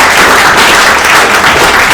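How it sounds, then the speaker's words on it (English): Steady applause from an audience, a dense, continuous wash of clapping at even loudness with no voices over it. "you should clap."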